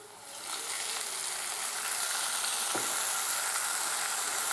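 Ground spices mixed with water hit hot oil with fried onions for an egg curry, rising into a loud, steady sizzle with a quick stir scrape partway through; close, no talk.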